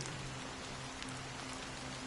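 Rain falls steadily in a soft, even patter, quiet and continuous with no voices.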